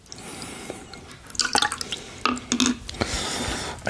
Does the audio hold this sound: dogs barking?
no